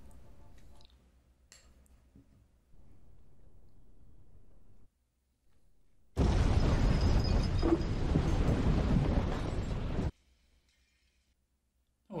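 A sudden explosion in the film Donnie Darko, a loud roaring blast with crackling debris that bursts in after quiet, holds for about four seconds, then cuts away to near silence.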